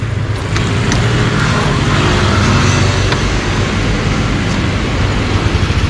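Close by a refuelled car or motorbike idles after starting: a loud, steady low engine rumble with faint clicks and clatter on top and no talk over it.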